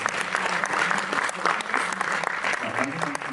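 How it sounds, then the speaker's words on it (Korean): An audience applauds the film director at a post-screening guest talk at the Jeonju International Film Festival, a dense, steady clapping that fills the whole stretch, with a voice faintly audible beneath it. "이제 우리 수고해 주신 감독님께 다시 한번 박수 드리겠습니다"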